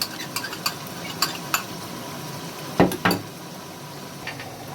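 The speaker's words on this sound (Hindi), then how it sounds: "बिरयानी मसाला डालेंगे और मिक्स करेंगे।" Chicken being stirred with biryani masala and yogurt in a pot, light sizzling beneath a series of sharp spoon clinks and two louder scraping knocks against the pan, close and without speech.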